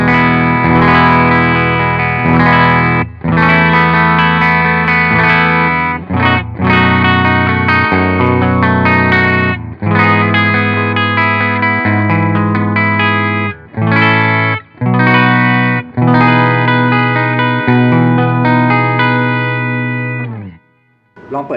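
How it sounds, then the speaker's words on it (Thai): A Lavish CTO 2 electric guitar through a Dcell VS4 amp set to a middle-of-the-road clean tone plays strummed chords and ringing phrases, loud and close, with a few brief pauses between passages. "กีตาร์ที่ใช้เทปวันนี้ก็ Lavish CTO 2ของผมเองครับก็แอมใช้เป็น Dcell VS4"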